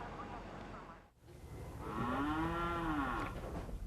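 A single cow gives a long, clear moo in a fertile valley by a rustic red peg barn near Martinsdale, Iowa. The call is fairly close and sits over a soft outdoor background.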